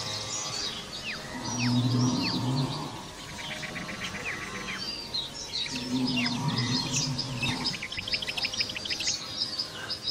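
Birds singing in a deep jungle, with repeated chirps, trills and whistles from several birds over a steady insect hum, plus a low warbling call that comes and goes, all moderately distant.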